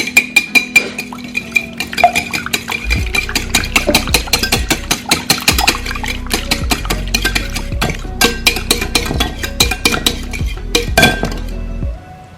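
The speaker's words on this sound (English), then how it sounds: "Whisk." A whisk clatters rapidly against a bowl while beating an egg with red hot sauce, a dense run of metallic clinks and taps that is close and busy, with a low engine-like hum under it.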